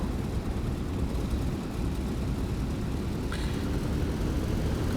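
A P-47 Thunderbolt taxiing in the DCS flight simulator, its engine giving a steady, dense droning rumble that holds evenly throughout with no speech.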